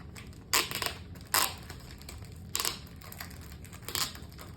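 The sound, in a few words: carefully unwrapping a first edition book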